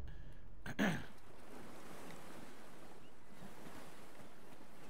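Ocean waves in a video game, a steady wash of surf and wind, fairly faint, with a brief bump of a nearby thud early on.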